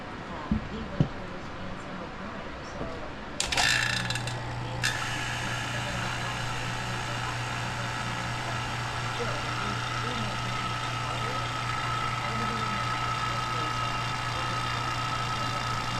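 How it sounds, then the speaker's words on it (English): A vacuum chamber degassing plastic for homemade swimbaits kicks on with a sharp burst, then settles into a steady low mechanical hum with a faint whine that runs unchanged to the end. "this is a vacuum chamber here"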